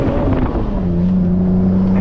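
Engine of a manual BMW M3 revs up as the car turns in and drifts, a close, loud, steady growl with a brief rise in pitch before it settles.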